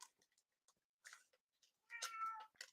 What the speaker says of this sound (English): Let me get this cat out of here.